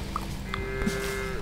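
A cow in the Farm Together 2 farming game gives a short, low moo, close and clear over a soft background of game music and ambience.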